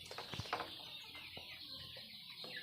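Two-month-old local chickens on a farm cluck softly and intermittently over a steady hiss of background noise, with a few sharper calls near the start.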